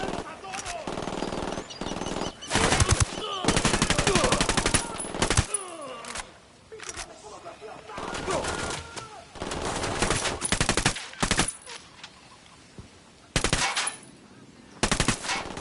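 Loud machine gun bursts in the video game Ghost Recon Wildlands, with long rattling volleys and short repeated bursts broken by brief quieter gaps, all close and dominant throughout.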